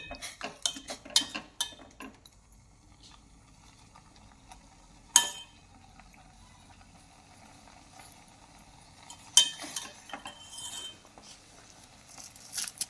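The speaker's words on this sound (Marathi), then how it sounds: "परत हे दोन मिनटासाठी असं हल हलवून घ्यायचं" A utensil stirs a henna mixture in a bowl with soft scraping clinks and a few sharper knocks against the bowl's side. It sounds quiet and close, with long faint stretches between the stirring and no talking.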